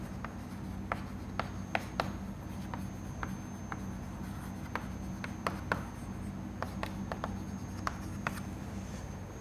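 Handwriting during a fluid mechanics lecture on mass balance: faint, irregular pen or chalk taps and strokes scattered across a steady low hum, with no talking.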